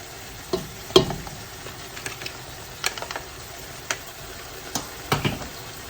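Freshly powdered garam masala roasts with soft tomatoes in a large 16-quart All-Clad stainless steel rondelle, a low sizzle under irregular stirring clicks and scrapes of a spoon against the pan, close and fairly quiet.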